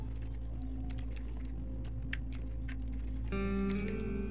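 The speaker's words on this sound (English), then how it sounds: "to do that, type in this command sudo mv" Keys on a computer keyboard are tapped as a command is typed in Kali Linux, a brisk run of light, close clicks at an uneven rhythm under a faint steady hum, ending with a brief electronic tone.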